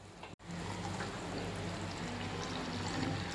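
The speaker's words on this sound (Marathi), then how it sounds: "आपण आता त्यामध्ये गरम पाणी घालणार आहोत" Hot water poured into a thick Maharashtrian katachi amti curry, a steady close splashing pour running unbroken after a brief cut near the start.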